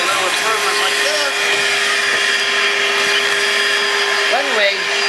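A vacuum cleaner whines steadily at close range while it dusts a refrigerator's motor filter, holding a constant motor tone with brief pitch dips as the nozzle shifts.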